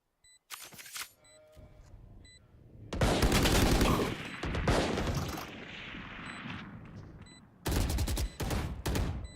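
Rapid bursts of video-game gunfire crackle back and forth, with sustained automatic fire in the middle and sharp volleys at the start and end, during a tournament finals match.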